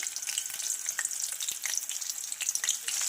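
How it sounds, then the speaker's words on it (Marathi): Green chillies fry with garlic in a pan over medium gas, producing a close, busy crackling sizzle broken by a few soft stirring taps. "ह्या मिरच्या घालून घ्यायच्या आहेत आणि मिडियम गॅसवर याला छान असं मऊ होईपर्यंत फ्राय करायचे आहे"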